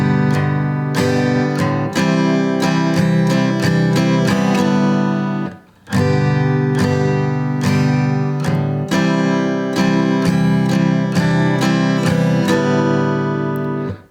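Acoustic guitar playing the strummed chord riff of a song, loud and close, with rhythmic strums ringing through two repeated passes and a brief pause in the middle.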